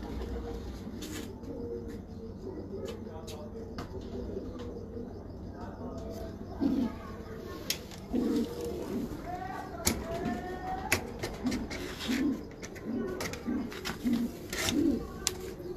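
Pigeons of a breeder's loft, including a Salara breeding pair and their young, coo in repeated soft low bursts through the second half, with a voice talking over a steady background hum.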